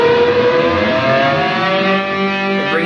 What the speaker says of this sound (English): and bring it up to its neutral position.